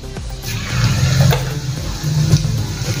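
Cumin seeds drop into hot cooking oil and sizzle loudly up close, a steady frothy hiss with crackling bursts throughout.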